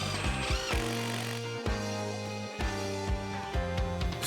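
A power driver whirs in bursts as screws go into a wooden window buck on an exterior wall, with several loud, close whining runs that rise and stop.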